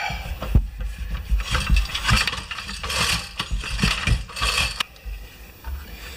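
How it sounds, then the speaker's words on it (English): Ratchet wrench tightening bolts to mount an engine, a run of close, loud mechanical clicking and rasping strokes in uneven bursts, with metal clanks and knocks in between. "Going to have to bolt that down."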